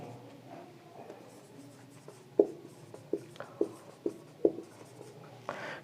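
Pen on paper while writing notes, with soft scratchy strokes and several sharp taps, close and quiet with no talking.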